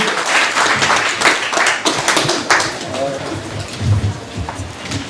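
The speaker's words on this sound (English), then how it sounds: "everyone give them a round of applause" Crowd at a Silicon Valley startup night applauding, a dense burst of clapping that thins out as voices and crowd chatter take over.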